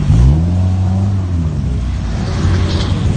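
A 2006 Mitsubishi Evo race car at the Ultimate Street Car Invitational in Las Vegas revs hard and continuously for about three seconds, its deep engine note loud and close, with rising and falling pitch.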